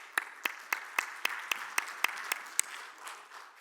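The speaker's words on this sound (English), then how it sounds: "A big round of applause." Audience at a medtech panel discussion conference in Dubai clapping, with about ten sharp, evenly spaced claps standing out over a soft bed of general applause that fades near the end.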